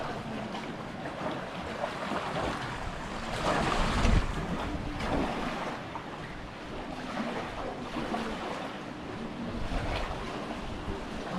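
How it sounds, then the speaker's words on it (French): Steady wash of Lake Constance waves lapping against the shore with wind buffeting the microphone, continuous and fairly loud, no voices. "Voilà où on entend les vagues."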